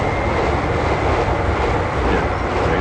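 A train rumbles across a railway bridge near Oosterbeek, a steady loud roar of wheels and carriages holding constant throughout, with no voices.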